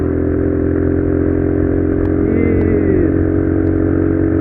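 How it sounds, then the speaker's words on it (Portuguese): A Honda Bros 190 cc motorcycle engine runs through a Pro Tork PowerCore 3 stainless steel exhaust with a bomber bend, giving a loud steady rumbling idle that lifts briefly into a rev midway, close and without talk. "Eu comprei esse escapamento da Tork."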